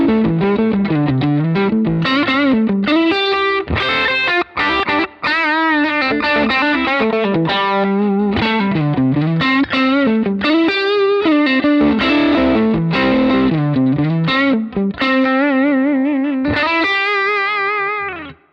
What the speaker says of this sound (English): I've got on channel C here the Tone of Kings drive and level right up